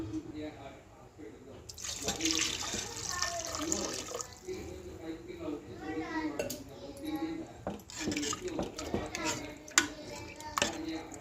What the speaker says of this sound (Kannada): ಇದಕ್ಕೆ ನಾನಿಲ್ಲಿ ಒಂಚರಿಗೆ ನೀರನ್ನು ಹಾಕ್ತಾಯಿದ್ದೀನಿ.